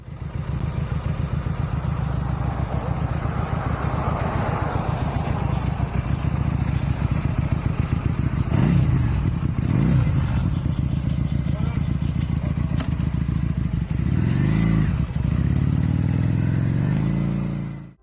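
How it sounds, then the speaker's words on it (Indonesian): A Benda Napoleon 250cc V-twin motorcycle engine idles and revs nearby, a loud steady throbbing pulse with brief throttle blips rising in pitch before settling, then cutting off at the end. "Dengan kapasitas 250cc dan konfigurasi V-twin, motor ini bisa menghasilkan suara kayak gini."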